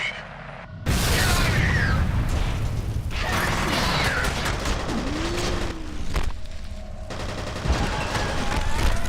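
Explosions and gunfire from the FEAR shooter game: a sudden loud blast opens a dense stretch of booming, crackling, mechanical combat noise.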